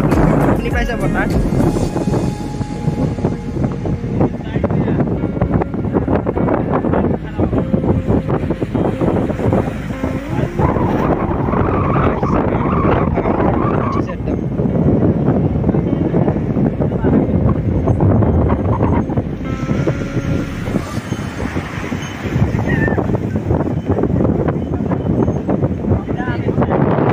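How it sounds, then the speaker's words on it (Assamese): Strong seaside wind at the Kanyakumari viewpoint in Tamil Nadu, a loud steady roar buffeting the microphone for the whole stretch, with voices talking underneath. "আচ্ছা বতাহ কিমান ধুনীয়া শুনি পাইছে বতাহ"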